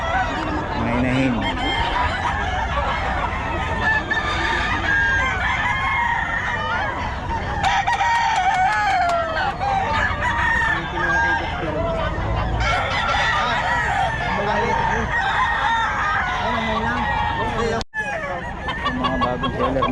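Hens and roosters at a poultry market in the Philippines, crowing and clucking loudly and continuously over a dense crowded background, with crowing bursts repeating throughout.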